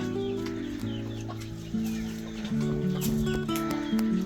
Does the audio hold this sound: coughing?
no